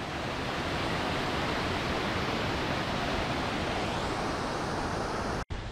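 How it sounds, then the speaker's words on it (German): Water rushing out of a scree field on a mountain slope in Nelson Lakes National Park, New Zealand, a steady dense roar close to the microphone that stays constant throughout and cuts off abruptly near the end. "War einfach mega cool, wie das Wasser hier vorne einfach aus diesem Geröllfeld rauskommt"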